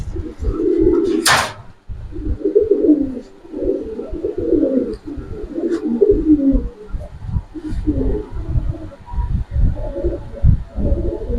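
Giribaz pigeons, a Sabchila Pankhi pair, coo in a repeated, low, throaty rhythm close by across the whole stretch, with a sharp brief noise near the start and faint background voices.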